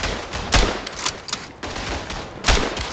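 Rifle fire in the WWI shooter Verdun cracks loud and close in several sharp bursts, with a few heavy reports spread irregularly over a noisy battlefield din.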